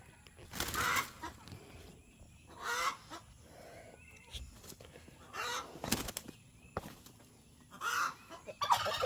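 Roosters squabble through a fence in bursts of squawking, flapping and scuffling, several loud clashes separated by quieter pauses, close by.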